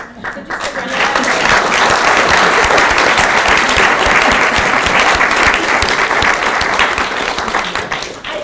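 Sustained audience applause after a lecture, dense and loud, starting almost at once and continuing steadily to the end with no speech over it.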